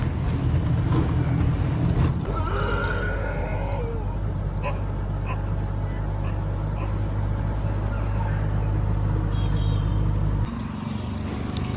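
An auto rickshaw rides along on the way to the Mahisagar River, its engine a steady, loud, close rumble that drones without a break and shifts briefly near the end, with faint voices in the background.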